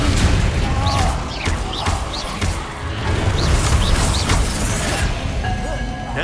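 Spell bursts from the Hogwarts Legacy video game, an Incendio fire spell among others: dense, loud crackling blasts and whooshing impacts repeat throughout over a rumbling low battle din, with no speech.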